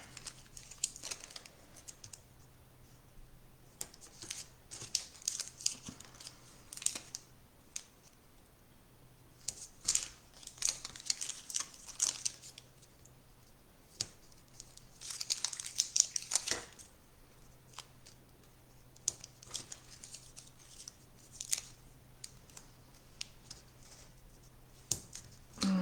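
Scissors cutting card to make aperture cards in a home craft setting, a steady run of close, crisp snips and paper rustles repeating in irregular bursts with almost no talk.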